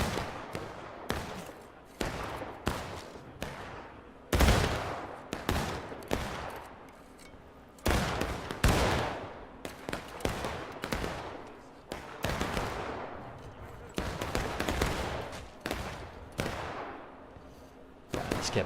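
Repeated musket volleys in the Civil War shooter War of Rights, loud sharp cracks and ragged bursts every second or two with echoing tails, some near and some distant, continuing across the whole stretch.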